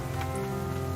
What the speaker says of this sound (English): The rain sound cuts out as you go under shelter.